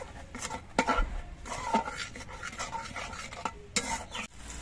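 Spice paste cooking with whisked sour yogurt is stirred in a pan, giving repeated scraping strokes and utensil clinks over a soft sizzle, close and moderately quiet.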